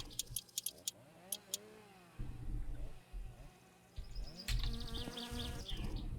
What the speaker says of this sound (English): Damn bloody mozzies.